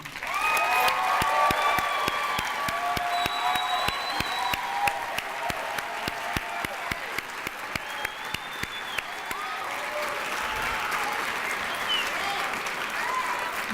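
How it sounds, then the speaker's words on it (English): A room full of people applauds graduates at a Year Up Greater Boston graduation ceremony, sustained loud clapping with a few cheers and whistles, settling into rhythmic unison claps before fading back into scattered applause. "I want us to give them the biggest round of applause they've heard all night long"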